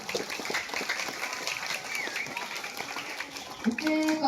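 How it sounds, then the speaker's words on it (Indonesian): A crowd of students applauds at a school flag ceremony on Heroes' Day, scattered outdoor clapping of moderate loudness with voices mixed in and a brief tonal sound near the end. "Tepuk tangan sekali lagi, Pak."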